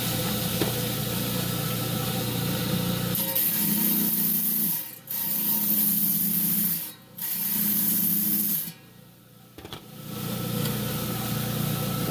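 A rock saw blade being dressed with an old grinding disc before cutting beach rocks such as granite: a steady, harsh rubbing grind with brief dips and pauses, loud and close, with no talk.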